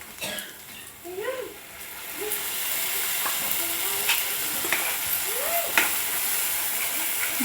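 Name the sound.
masala added to frying ivy gourd and mint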